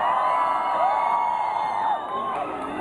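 A concert crowd at a show in Bogotá, Colombia screams and cheers loudly and continuously, a dense roar of voices with whoops rising above it, easing slightly toward the end.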